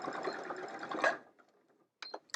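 A sewing machine runs a short back stitch on a quilt's binding, a fast steady whir for about a second that stops abruptly, followed by a few faint clicks and a brief burst of mechanism noise.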